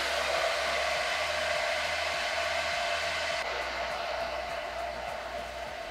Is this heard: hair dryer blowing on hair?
yes